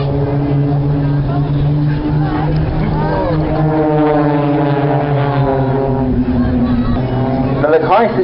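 Blades aerobatic aircraft performing a fan break manoeuvre at the Farnborough Air Show 2012, with a loud, steady droning engine roar whose pitch bends and shifts as they pass, while a commentator talks over the top.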